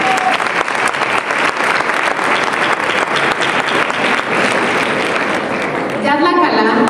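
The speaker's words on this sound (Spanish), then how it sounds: "la señora Dolly Coachín, para quienes pido un fuerte aplauso" A large audience at a Perek Shira event breaks into loud, sustained applause that carries on for several seconds, tapering slightly near the end as a voice begins.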